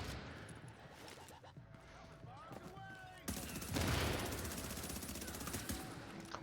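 Rapid automatic gunfire from a firefight in The Division video game, with a quieter stretch of scattered shots and game effects giving way to a loud, dense burst of continuous fire in the second half.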